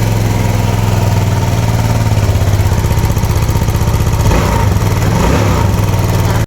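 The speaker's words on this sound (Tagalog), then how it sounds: "pina-start ko yung makina para matesting ko yung oil pump" A refreshed Kymco Racing 150 scooter engine runs loud and close, a steady rapid putter at idle that briefly rises near the end before cutting off abruptly.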